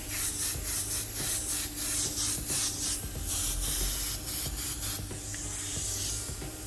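A Harder & Steenbeck Ultra V2.0 airbrush sprays atomized paint in a close, steady hiss that pulses in short repeated bursts, with no voices.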